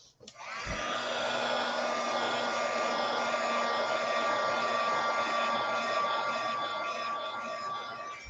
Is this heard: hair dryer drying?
yes